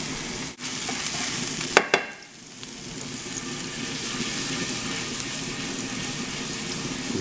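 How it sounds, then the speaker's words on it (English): Garlic and a pinch of crushed red pepper sizzle in hot oil, a bright steady hiss running throughout. Brief clatters of stirring come near the start, and no one speaks. "We turn the heat up, and we'll put in the garlic and a pinch of crushed red pepper for a little kick."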